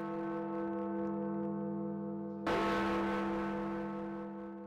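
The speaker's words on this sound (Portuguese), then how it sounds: "para ouvir os últimos repiques dos 5 sinos de ferro" A deep, resonant bell hum lingers, then a heavy cast-iron bell of Big Ben's clock tower in London strikes loudly midway and rings out with a long, rich decay.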